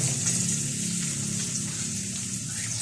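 Onions fry in leftover oil from cooking hotdogs, making a steady, close sizzle with constant hiss and crackle and no talking.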